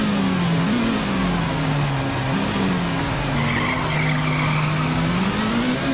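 In the Nitro Nation racing game, a car engine revs steadily while tyres skid and squeal, a loud, continuous drone that rises and falls in pitch as the car accelerates.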